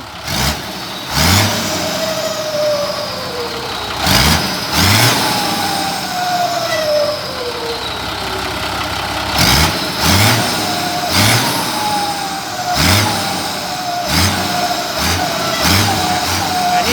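A Mitsubishi car engine fitted with dual exhaust pipes revs repeatedly in sharp bursts, roaring up and dropping back to a rumbling idle between throttle blips, loud and close.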